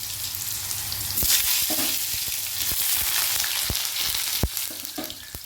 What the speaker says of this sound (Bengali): তেলটা দেওয়ার পর আমি ছোটো করে কেটে রেখেছিলাম আলু আমি আলুটা একটু দিয়ে দিলাম